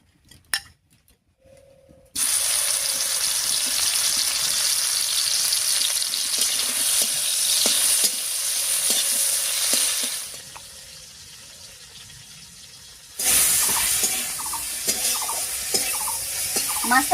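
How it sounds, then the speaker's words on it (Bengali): Dried fish rubbed with salt and turmeric sizzles loudly in hot oil, a steady close crackle that dips quieter midway before flaring up again. "মাছটা ভাজা হয়ে গেছে, একবার নামিয়ে নিচ্ছি"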